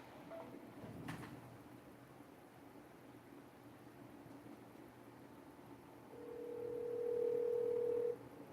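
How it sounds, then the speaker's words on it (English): A single steady voicemail beep sounds on a phone call near the end, a clean sustained tone after quiet line hiss and a brief click. "At the tone, please record your message."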